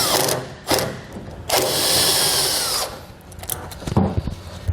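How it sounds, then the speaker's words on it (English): A power tool spins a 12mm socket to tighten a bolt while a tonneau cover is fitted on a 2020 Jeep Gladiator, running in several short bursts with whirring and mechanical clatter between them. "I'm going to take a 12mm socket and we're going to tighten down that bolt."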